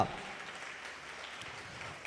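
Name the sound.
audience clapping loudly at a Christmas church event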